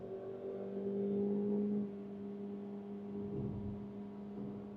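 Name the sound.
Maruti Suzuki Victoris accelerating in manual gear M2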